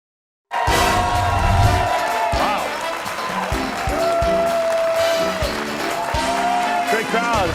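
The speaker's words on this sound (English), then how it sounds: "Great crowd." A studio crowd at a televised high-school academic quiz show breaks into loud, sustained applause and cheering, with dense clapping and shouts that continue steadily throughout.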